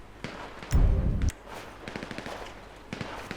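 Gunfire in GTA V during a zombie-city survival session, with a loud close burst of shots followed by sharper distant cracks and pops.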